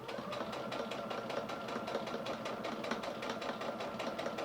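A sewing machine stitches a fabric face mask with a steady, fast, even mechanical whir and regular needle ticks, close up and running continuously without pause.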